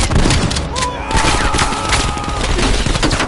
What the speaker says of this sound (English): Coordinates confirmed. Imminent bomb strike.